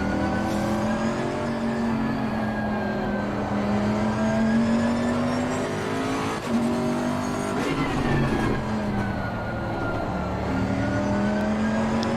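A large, heavy GT race car engine drones steadily while being driven in the Assetto Corsa Competizione racing game on a cold track, with a loud continuous tone that rises and falls through gear changes and brief tire noise.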